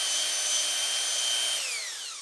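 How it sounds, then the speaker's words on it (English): A half-inch chuck drill spins a metal part against 600 grit sandpaper and emery cloth, giving a steady high whine that winds down in pitch as the drill slows, close and alone. "So I go back to my drill, and it helps if you have a half an inch chuck drill"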